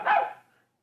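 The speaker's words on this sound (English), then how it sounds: "In the garden, Nana looks at the sky and barks." A single short dog bark sounds close and clear, then fades quickly into silence.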